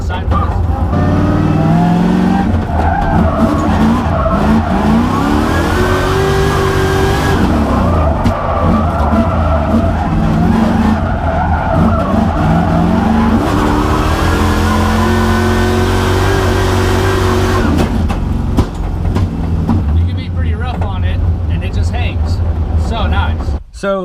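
A BMW E36 fitted with a dog box transmission drifting sideways, loud engine revving up and down through gear changes over prolonged tire skidding, continuous and close throughout, with a voice talking over it.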